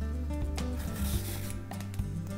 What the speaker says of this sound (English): Take your cucumber and you'll make several slices, several strips with your peeler like this.